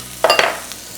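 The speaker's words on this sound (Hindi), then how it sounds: "इसको तेज़ आंच पे पकाना है। स्टर फ्राइड फूड है" Garlic and ginger stir-fry over high heat, giving a sharp burst of sizzling as a spatula scrapes through the pan twice, then fading to a quieter hiss, close by.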